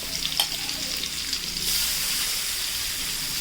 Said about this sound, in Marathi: आता आपण मस्तपैकी सर्व मच्छी तव्यामध्ये सोडून घेणार आहोत इथे आपण आता या बागड्यांसोबत करलीचा सुद्धा तुकडं सोडून घेऊयात